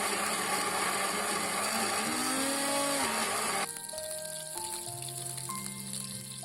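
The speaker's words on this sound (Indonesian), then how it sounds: "saya menggunakan blender untuk menghaluskan bumbu-bumbunya." A kitchen blender grinds spices for tuna sambal with a loud, gritty motor whir that drops to a lower, steadier hum partway through, close and without speech.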